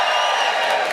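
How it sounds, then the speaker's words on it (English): Comedy club audience cheering in response to a stand-up comedian, a dense, steady wash of crowd voices and whoops held at full level for the whole second. "Give me a cheer if you've been to the USA."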